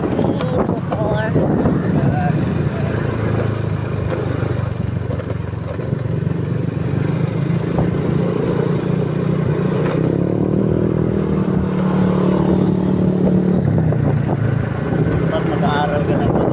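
A boat motor runs steadily throughout, a continuous low engine drone with wind buffeting the microphone, while people talk over it.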